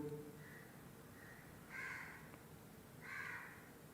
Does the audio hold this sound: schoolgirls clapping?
no